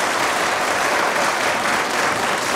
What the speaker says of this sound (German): können ruhig mal klatschen